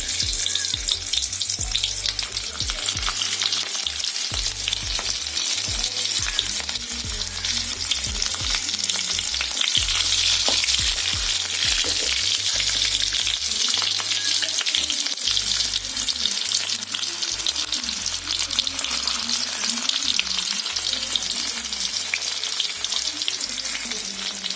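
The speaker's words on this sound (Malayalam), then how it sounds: "ചൂടായി വരുമ്പോഴത്തേക്കും നമുക്ക് ഈ ചെറിയുള്ളി എന്നിട്ട് അങ്ങോട്ട് തന്നെ ഇട്ട് കൊടുക്കുക." Whole small shallots sizzle and crackle steadily in hot oil in a pan, with occasional stirring scrapes, close and continuous with no talking.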